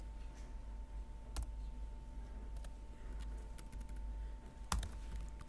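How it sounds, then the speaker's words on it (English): Someone mashes on a computer keyboard during a lecture, producing faint, quiet clicks and key taps with a few sharper clacks over a steady low background hum, with no voices. "I'm just going to mash on the keyboard for a second."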